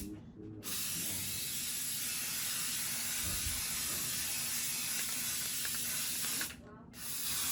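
Undercoating sprays onto the tailgate of a 1952 PD4103 bus in a loud, steady hiss lasting several seconds, starting and stopping abruptly, with faint mechanical noise beneath.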